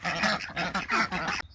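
Ducks in an autumn garden give a run of loud, close, nasal quacks in quick bursts, ending abruptly.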